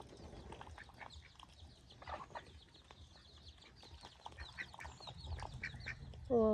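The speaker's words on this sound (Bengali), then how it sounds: "ও হচ্ছে ছেলে হাঁস" Ducks, a drake among a pair of laying hens in a village setting, quack in scattered calls at close range over soft ambient noise, with a louder burst of calls near the end.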